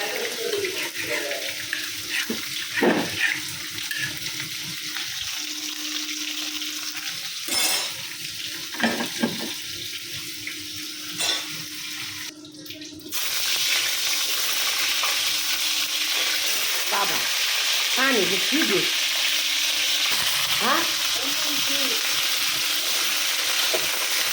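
Fish and lentil dumplings frying in hot oil, a loud constant sizzle that swells sharply about halfway through, with stirring clinks and some running water heard earlier.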